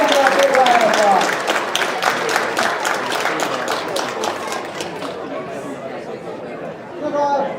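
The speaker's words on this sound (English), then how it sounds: "let's get a team looking for a big round of applause." An audience at a chemistry demo night claps in a dense burst of applause mixed with crowd chatter, loud at first and then tapering off while voices continue underneath.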